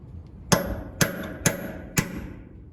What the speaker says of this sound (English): I'm gonna see if I can drive this main pin out now